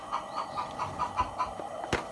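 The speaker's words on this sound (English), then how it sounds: "this is an Australorp, which is like a big blackbird." An Australorp, a large black chicken breed, clucks in a series of short, rhythmic calls at close range outdoors on a farm, with one sharp louder knock near the end.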